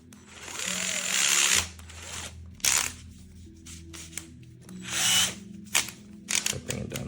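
DeWalt 8V cordless gyroscopic screwdriver whirring in short bursts as its clutch slips at a low torque setting, several separate spurts of buzzing motor noise with quiet pauses between, close up.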